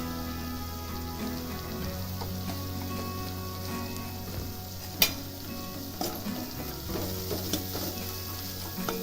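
Asafoetida sizzling in hot oil with a little dried fenugreek, a steady close frying crackle with a few sharp spatter pops partway through.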